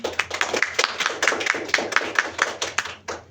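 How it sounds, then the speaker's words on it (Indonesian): Classroom applause for a student after she finishes at the board, a run of sharp, fairly close hand claps at an uneven rhythm, fading out toward the end. "Tepuk tangan buat Mbak Niken."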